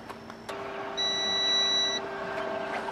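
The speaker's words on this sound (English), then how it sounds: "Now you should hear a beep from the inverter." A power inverter on a bus solar setup gives a single short electronic beep, a clear high tone lasting about a second, over a quiet background hum.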